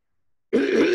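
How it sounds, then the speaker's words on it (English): An elderly man clears his throat once, a short, rough burst that starts abruptly after half a second of silence and stays close and fairly loud to the end. "I have to clear my throat a lot"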